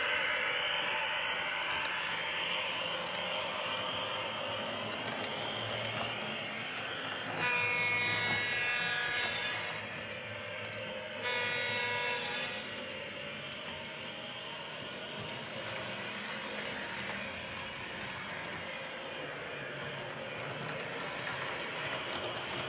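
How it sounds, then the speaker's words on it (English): An O scale model train, a Norfolk and Western E44 electric locomotive, running along a home layout track with a steady rolling rumble and whirring motor, some brief clicking shifts partway through, moderately near and without voices. "here's the first train, Line Chief Norfolk and Western E44"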